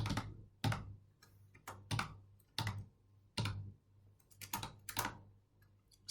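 Bursts of typing on a computer keyboard, clusters of sharp keystrokes separated by short pauses, close and fairly quiet with no voices.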